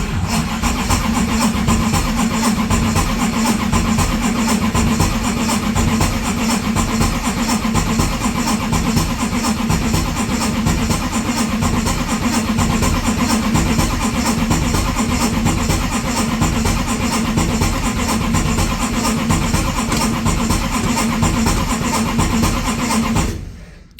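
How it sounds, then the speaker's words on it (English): A turbocharged big-block Plymouth Duster's engine cranks and catches, then keeps up a loud, continuous rough rumble at close range for over twenty seconds before cutting off abruptly, with no talking. "It wasn't starting, then it will start."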